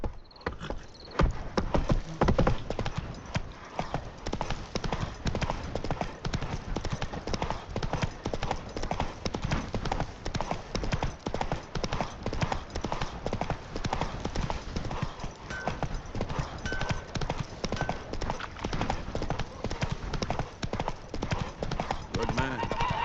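A horse gallops in The Witcher 3, its hooves clip-clopping in a fast, continuous rhythm for the whole stretch, loud and close, with a voice talking over the hoofbeats.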